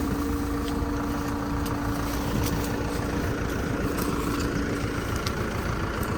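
Basak tractor engine running steadily nearby with a pump and hydraulic motor attached, a constant low rumbling drone with a sustained mechanical hum and occasional faint clicks, no speech.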